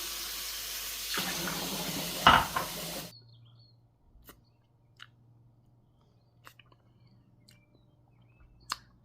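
Fresh cold water is poured into a glass, a steady splashing pour lasting a few seconds, then quiet with faint small clinks and handling sounds afterward.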